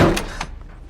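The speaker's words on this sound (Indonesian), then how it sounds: "secara mengejutkan pintu tiba-tiba tertutup angin" A door suddenly blown shut by the wind, a single loud thud that quickly dies away.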